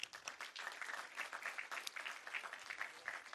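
A rally crowd at an event to end child abuse gives a round of applause, a quiet, uneven patter of many hands clapping with small surges and dips, and nobody speaking over it.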